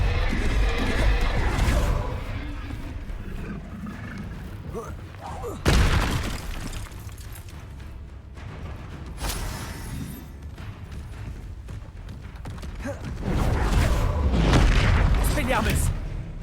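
Diffindo and Confringo spells burst with deep booming blasts and crashing impacts in Hogwarts Legacy, set inside an arena battle, while a player talks over the explosive combat.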